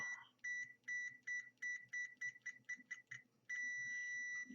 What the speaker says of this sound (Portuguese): Vocês devem estar ouvindo um bip aí, né? Eu estou encostando as duas ponteiras.